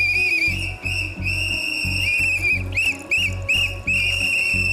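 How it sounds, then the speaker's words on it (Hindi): Loud, shrill whistles from a reality-show house crowd, given in repeated bursts with brief pauses between them, several whistlers overlapping at once with no talk. "तो घर वालों, मैं एक नाम लूंगा, आप उनके लिए सीटी बजाएंगे"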